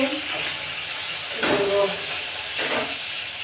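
Pointed gourd (potol) slices fry in a pan, a steady close hiss with a couple of brief louder surges of sizzle, faint background sounds underneath.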